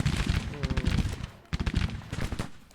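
Musket volleys crackle in the Civil War strategy game Grand Tactician, a dense run of rapid, overlapping shots in two clustered bursts with a brief lull between, loud and close, under a steady battle din.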